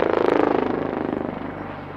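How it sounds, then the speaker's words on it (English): Helicopter performing maneuvers at the Aero India air show, a loud rhythmic rotor thump over a steady engine roar that slowly fades as it moves away. "These maneuvers are the hallmark of a versatile helicopter which are made possible by its unique design."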